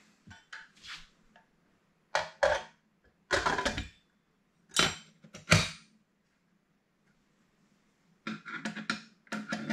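Metal autoclave lid clanking and scraping as it is set on and fastened down for home canning of river and lake fish, in several short sharp bursts separated by quiet pauses, fairly close.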